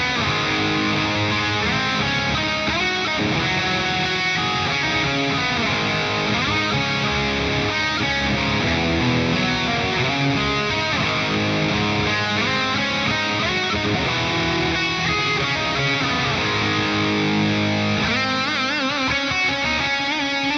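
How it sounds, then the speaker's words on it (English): Electric guitar through heavy, filthy distortion from a USA lead channel on mid gain, with a multitap delay repeating each note; a dense, loud, sustained lead line that plays continuously with no talk. "this with some filthy distortion from the USA lead mid gain"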